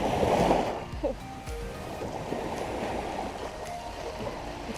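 Sea waves wash ashore at the beach in Mondello, Palermo, a loud surge up front that settles into a steady hiss of surf and water movement.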